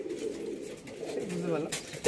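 A pigeon coos in a loft, a short, low throaty rolling call close by, with a voice speaking alongside it.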